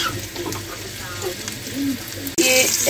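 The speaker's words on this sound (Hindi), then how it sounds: "इसको भी मैं पैन में डाल दूंगी और बाकी भी इसी तरह से मैं शेलो फ्राई कर दूंगी।" Chapli kebabs shallow frying in oil in a pan, a steady soft sizzle that jumps to a louder, brighter hiss as another piece goes in near the end, under someone talking.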